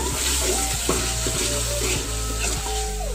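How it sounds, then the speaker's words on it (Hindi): Steady sizzling of onions frying in hot ghee until lightly browned for kadhi pakora, with occasional stirring clinks and scrapes throughout; no talking. "ये प्याज को हल्का ब्राउन करेंगे।"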